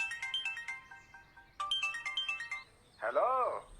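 A phone ringtone chimes in repeated bright melodic bursts, stopping and restarting, before a voice answers the call.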